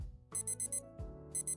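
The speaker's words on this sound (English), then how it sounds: "That's my alarm." Electronic alarm beeping in a video game, sounding in two bursts of rapid, evenly spaced high-pitched beeps, each burst followed by a short pause, clear and close with no talking over it.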